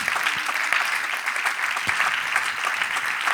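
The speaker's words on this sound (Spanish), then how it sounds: "Dele un aplauso al Señor." A church congregation breaks into steady applause during a sermon, dense clapping lasting throughout with a few sharper individual claps standing out.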